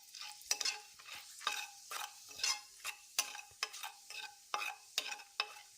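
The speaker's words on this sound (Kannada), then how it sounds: "ಈಗ ಇದೇ ಕಡಾಯಿಗೆ ನಾನು ಜೀರಿಗೆ, ಪಲಾವ್ ಎಲೆ, ಚಕ್ಕೆ 3 ಹಾಕಿ ಹುರ್ಕೋಬೇಕು ಇದನ್ನು." Cumin, bay leaf and cinnamon crackle in a hot kadai, with rhythmic stirring strokes over a faint sizzle, close and fairly quiet, no voices.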